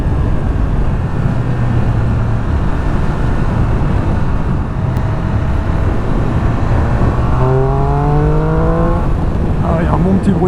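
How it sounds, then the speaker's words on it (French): A Triumph Speed Triple RS 1200 three-cylinder motorcycle rumbles under wind noise and talk, then accelerates hard through rising gear sweeps near the end. "il y a un bon petit bruit quand même, hein, l'accélération"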